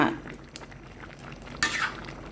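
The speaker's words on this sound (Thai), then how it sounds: "เดือดแล้ว ย่าจะลองคนชิมรสชาติดีแล้ว" Coconut curry with pork bones and bamboo shoots bubbles in a pot as it is stirred, a soft sizzle and simmer under light scraping, with a sharp clink of a utensil against the pot near the end.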